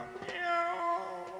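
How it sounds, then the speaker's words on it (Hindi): A short, faint, wavering cry rises and falls briefly, a plaintive cat-like wail heard alone. "बिल्ली रो रही है। बिल्ली अपने बच्चों के लिए रो रही है।"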